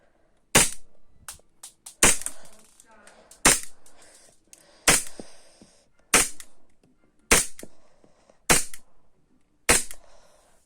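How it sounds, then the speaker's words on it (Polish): A Polish R31 airsoft replica fires with its magazine empty, eight loud, sharp cracks spaced roughly every one to one and a half seconds, each followed by a short mechanical tail. "jeżeli się kończą kulki, to i tak strzela"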